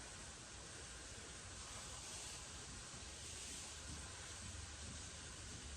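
A tomahawk steak sears in a cast-iron pan, producing a steady, dense sizzling hiss that stays faint and even throughout, with no talking.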